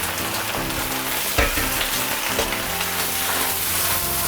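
Cabbage stir-fries in a hot wok after ginger, garlic, scallion, dried chili and Sichuan peppercorns are fried fragrant, a loud, dense, continuous crackling sizzle with a brief clatter of the tossed vegetables, close up and free of speech.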